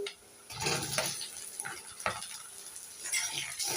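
Chopped tomatoes fry with onions in a pan, with a soft sizzle and intermittent spatula stirring and scraping against the metal, close up and fairly quiet, without any speech.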